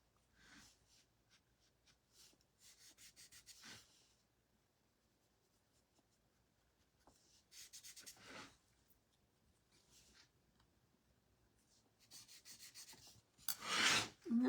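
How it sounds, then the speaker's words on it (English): Blue paint and medium rubbed into a painting by hand: soft, close, intermittent rubbing strokes in short bursts separated by quiet pauses, faint overall, with no voices. "then I just rub it in"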